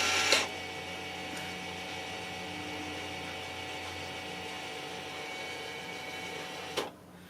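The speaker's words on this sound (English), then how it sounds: "we can hear the piston or the electronic parking brake will release" On a 2015 Jeep Cherokee, the electronic parking brake's rear piston releases. A steady mechanical whir runs for several seconds between a sharp click at the start and another at the end, with no talking.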